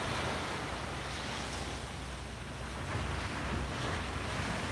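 Ocean surf rolling onto a beach on a cool day, a continuous broadband wash of breaking waves with gentle swells in intensity, mixed with wind buffeting the microphone.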